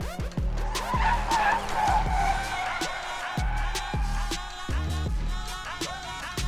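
A race car drifting and spinning out at a drift school, with repeated long tyre squeals and skids sweeping up and down over a steady engine drone, close and loud.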